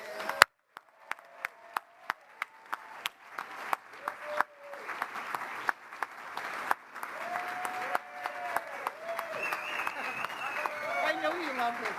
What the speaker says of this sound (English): just all give her a big round of applause